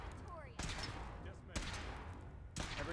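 Three sharp weapon shots ring out about a second apart in Fallout 4 VR, each with a quick echoing tail, over a steady background hum and faint game chatter.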